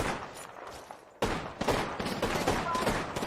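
Automatic weapon fire in the Apex Legends battle royale game, loud rapid bursts that jump up partway through and continue densely to the end.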